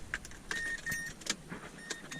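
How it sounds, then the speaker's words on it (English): A car with a bad starter motor is cranked with the key, giving a faint series of sharp, irregular clicks with a thin whine between them and no engine catching. "I'm gonna crank it again with the key"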